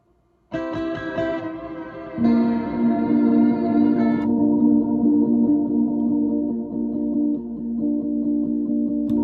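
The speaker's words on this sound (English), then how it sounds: "This Mercury, the Maris pedal, this is like what's doing a lot of the reverb," Droning guitar parts sent through a Mercury reverb pedal, with sustained tonal layers that swell in after a brief silence and shift partway through, ending as a long, wide washed-out drone with no voices.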